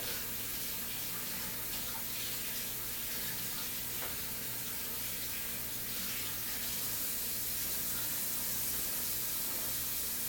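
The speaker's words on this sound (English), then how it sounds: "And again, I'm rubbing the turkey under the warm water." Steady rushing of warm tap water over a turkey being rubbed by hand under it, a continuous broadband hiss with faint splashy variations throughout, no talking.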